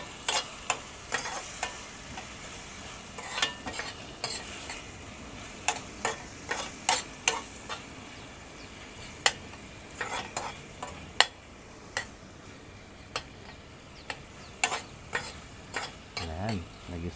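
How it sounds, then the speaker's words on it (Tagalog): A spoon stirs sautéed food seasoned with pepper in a pan, making sharp scraping ticks at an uneven pace over a soft, continuous sizzle. Fairly quiet and close, with no voices. "And then haluin lang natin ulit ng mga kabatchoy."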